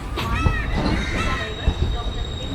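Train number 2265 stands at a station in Kerala during the monsoon, about ten minutes short of Palakkad Junction. Its wheels squeal steadily and close, with a few heavy knocks from the cars, and a voice talks over it.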